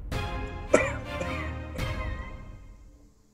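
A short, sharp cough bursts out over a sustained low hum, followed by another rougher cough as the sound slowly fades.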